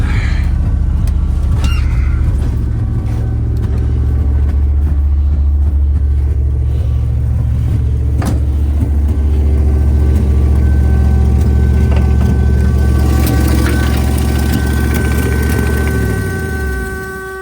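The engine of an abandoned 1971 Ford F250 truck, parked for decades, runs steadily and loud at close range with a deep, constant low rumble that softens slightly as it winds down at the end.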